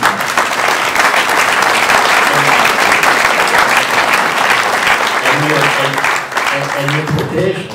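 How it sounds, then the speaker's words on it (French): Audience applauding at a medal award ceremony in Fontvieille, a dense, steady clapping that fills the room throughout, with a few voices rising over it toward the end. "je voudrais qu'on l'applaudisse"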